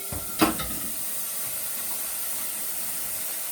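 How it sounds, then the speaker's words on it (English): Water heats in a large pot for a water-bath canning of jars, giving a steady loud hiss and steam with one brief clatter near the start. "Okay, more water boiling."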